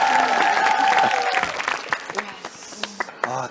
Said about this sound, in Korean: 우리 모두 다시 한 번 더 박수를 드리고 싶습니다.